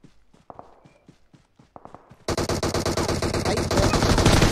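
Rapid bursts of automatic gunfire in PUBG Mobile erupt loud and close after a quieter stretch of footsteps, continuing as a dense, relentless rattle to the end.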